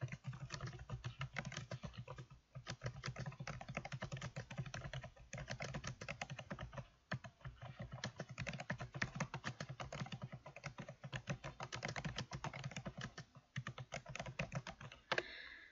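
Steady, fast typing on a computer keyboard while entering text in a word processor, with dense clicking keystrokes and only brief pauses, heard close and alone without talk.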